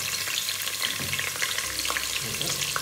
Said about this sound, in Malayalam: ഇങ്ങനെ എണ്ണയിലേക്ക് കറാമ്പൂ ഏലക്കായി കറവപ്പട്ട ഇതിലിടാം